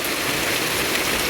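Heavy rain pours down in a dense, steady hiss, loud and close, with no voices or other distinct sounds above the downpour.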